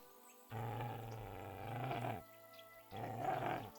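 A dog in the Kingdom Come Deliverance 2 video game gives two deep, rumbling growls with a short pause between them. The growls are close, sustained and fairly loud, with no talk over them.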